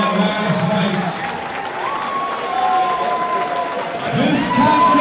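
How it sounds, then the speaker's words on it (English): Crowd applause and cheering fill a fight venue in Detroit, Michigan after a bout between Justin Price and Josh Palmer, a steady wash of clapping that swells again toward the end, with voices mixed in. "Put a round of applause together for both of the fighters in that last fight."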